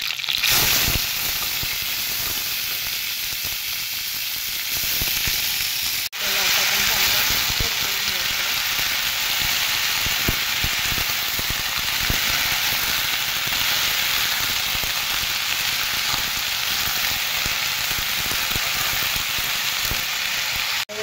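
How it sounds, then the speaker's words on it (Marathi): Garlic and cumin fry in a pan while making a green bean bhaji, giving a steady, close hiss of sizzling with occasional crackles and stirring knocks, as a person talks over it throughout. "लसूण कलर चेंज होईपर्यंत आपण ह्याला भाजून घेऊ."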